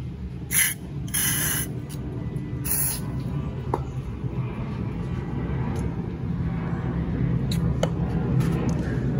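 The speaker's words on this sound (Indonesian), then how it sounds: "Nah nozzle-nya kalian semprot-semprot nih, atu-atu nih lubang-lubangnya." Cleaner sprayed through the nozzle holes of a Yamaha F1ZR motorcycle carburetor during a service, heard as three short, loud hissing bursts near the start, followed by a steady low background rumble.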